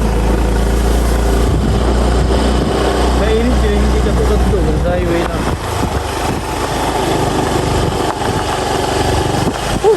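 A motorcycle engine rumbles steadily up close, with a low throbbing drone running the whole way and rider noise underneath.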